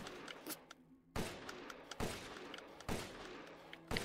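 Bursts of rapid gunfire from a high-capacity weapon in the video game Resident Evil Village, four sharp volleys spaced about a second apart, each with punchy thuds and shattering impacts, with no voice over them.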